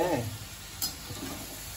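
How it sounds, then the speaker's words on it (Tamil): Potato pieces frying in hot oil as part of a traditional South Indian home-cooking session, giving a steady low sizzle with a brief clatter near the start and a sharp stir or scrape midway. "குழந்தைகளுக்காக இந்த உருளைக்கிழங்கை நம்ம இப்படி பொரிச்சு எடுக்கிறோம்"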